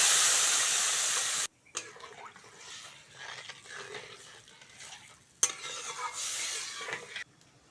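Fish curry masala with green chilli, turmeric, salt, chilli powder and water sizzles and is stirred in a pan, a bright frying hiss cut by brief pauses, scraping stirs and a sharp clink.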